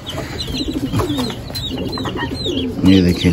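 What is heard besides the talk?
chukar and turkey chicks calling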